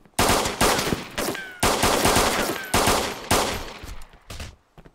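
Gunfire in DayZ during a shootout at Berezino, loud bursts of rapid automatic shots in several separate volleys, each cracking sharply and then trailing off, with short pauses between.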